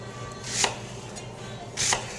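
Kitchen knife dicing pear on a cutting board for a spinach pear salad, two crisp sharp chops about a second apart, close and clear over quiet room noise, no talk.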